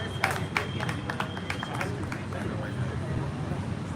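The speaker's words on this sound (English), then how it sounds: "So please give yourself a big round of applause." An audience at a church gathering claps in a loose, moderate round of applause, with crowd murmur and some talk mixed in, held at a fairly even level.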